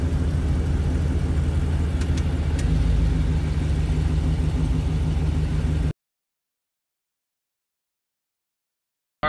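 Cammed Chevrolet Corvette Z06 engine rumbling steadily while cruising Woodward Avenue, a deep continuous drone with slight swells for about six seconds before cutting to silence.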